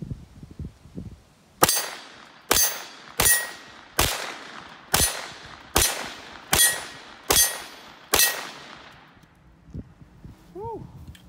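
An MP40 clone 9mm submachine gun fires at a range, nine sharp, loud single reports in an even rhythm, each ringing out briefly, followed by quiet.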